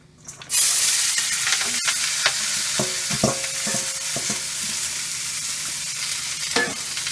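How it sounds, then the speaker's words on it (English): Loud, steady sizzling and hissing as vegetables stir-fry in a very hot pan, with occasional clinks and scrapes of stirring throughout. "you can hear how hot the pan was and the sizzle you got when we added that"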